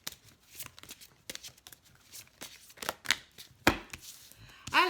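Oracle cards are shuffled for a tarot love reading, giving a series of quick riffling slaps and flutters close to the listener that vary in loudness, with a brief voice in the background.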